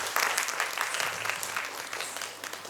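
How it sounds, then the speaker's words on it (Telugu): An audience claps steadily at an International Dance Day celebration after children in costume perform as Hindu deities, a dense, moderately loud patter of many hands running throughout with no talk over it. "గట్టిగా క్లాప్స్ కొట్టండి"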